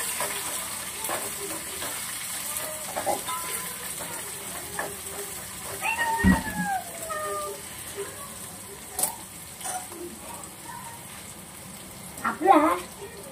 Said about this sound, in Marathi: मी आता भाजून घेते कांदा लालसर होईपर्यंत